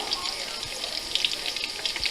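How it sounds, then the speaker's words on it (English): Mushrooms washed under a running kitchen tap, a steady close hiss and splash of flowing water with small irregular splatters throughout. "so I'm going to wash these mushrooms."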